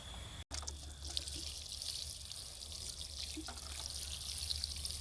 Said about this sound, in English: and then we're going to give it a good watering.